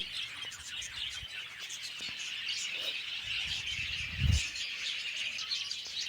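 Small caged farm birds, a colony of female finches kept apart in separate cages, chirp and tweet in a steady dense chorus at close range, with a brief flutter of wings partway through.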